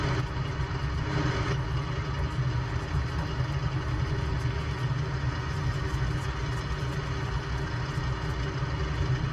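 Old propeller aircraft engines in Microsoft Flight Simulator 2020, running near 3700 rpm, a steady loud droning rumble with a dense low throb that holds constant throughout, no voices.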